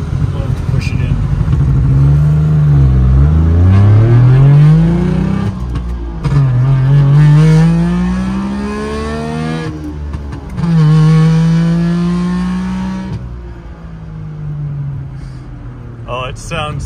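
A modified 1961 Saab 96 engine revs hard and loud from inside the car, pitch climbing through several gear shifts with brief dips between pulls, then easing off near the end.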